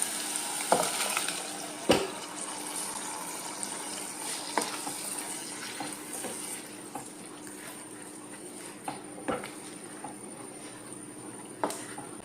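Ground coconut paste goes into a pan of carrot curry on low heat, giving a steady soft sizzle and simmer broken by a few sharp spoon clacks against the pot, close and moderately quiet with no talking.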